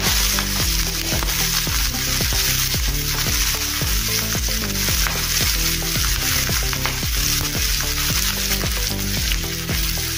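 Chopped onions and green chillies fry in a pan while being stirred, making a loud continuous sizzle with a rhythmic patter of scraping strokes running all the way through.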